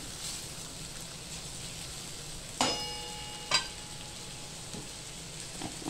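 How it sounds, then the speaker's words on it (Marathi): Tomatoes softening in salted spice masala in a pan for potato and pea curry, giving a steady low sizzle with a couple of sharp clinks of a utensil against the pan midway and no talking. "टोमॅटो आपल्याला मऊ होईपर्यंत परतून घ्यायचे"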